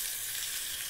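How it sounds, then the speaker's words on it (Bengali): Grated potato and ginger frying in a pan, giving a steady, close, even sizzling hiss that holds for a second without a break. "আলু আর আদা ভাজছি"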